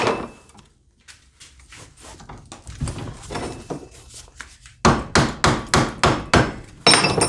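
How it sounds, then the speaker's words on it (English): Hammer knocking plastic off copper wire from a scrapped car A/C compressor: a run of sharp, close strikes, lighter and irregular at first, then a rapid series of loud, evenly spaced blows. "You just hit it with a hammer and it'll come right off."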